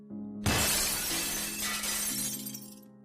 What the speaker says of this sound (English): the sound of the broken glass